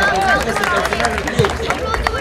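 Crowd applause for young football players at a county-level Romanian football event, a dense mix of clapping and cheering under a loud announcer's voice speaking throughout.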